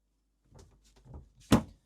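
A fridge door opens in the galley of a Sealine S28 sports cruiser, a few soft rustles and handling sounds before a single firm thunk, close and quiet.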